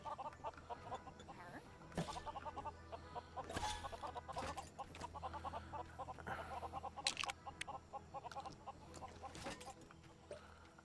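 Chickens cluck in Lego Worlds, a quick repeating run of game clucks with scattered sharp clicks and thumps, fairly quiet throughout.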